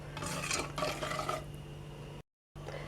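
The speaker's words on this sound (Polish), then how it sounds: "rozmieszamy i gotujemy czasu do czasu pomieszamy, żeby nam się nie przypaliło" Steady scraping and swishing of a spoon stirring currant filling in a pot, close and continuous, briefly cutting out near the end.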